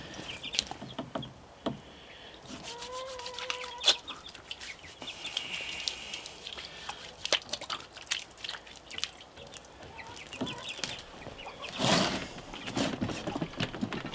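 Hens clucking and chirping in a backyard yard setting, soft intermittent calls scattered over a quiet background with occasional knocks and rustling.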